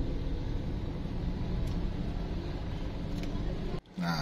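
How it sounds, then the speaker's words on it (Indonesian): Jammed street traffic in Manado rumbles as a dense, steady wash of engine and road noise, loud and close, broken only by a brief dropout near the end. "Ini suasananya macet teman-teman ya."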